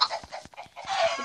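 Chickens clucking in a video game, a quick flurry of short, bright clucks and squawks in uneven bursts, fairly close, with no talking over them.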